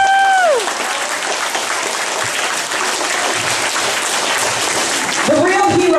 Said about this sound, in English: Why don't you clap for them and say yes?